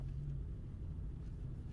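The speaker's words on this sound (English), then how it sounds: "We hear the sound of a car again." A car engine rumbles low and quiet in an audio drama scene, a steady muffled drone with no other sounds over it.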